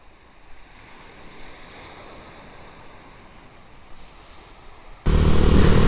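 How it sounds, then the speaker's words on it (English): Surf washes continuously onto the beach at Pevensey with a soft, windy roar, then a sudden loud blast of wind noise hits the microphone at the end. "just the sea crashing into the beach"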